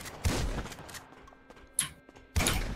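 Three loud shotgun blasts in a video game, one near the start, a sharper crack midway and another at the end, each with a short booming tail.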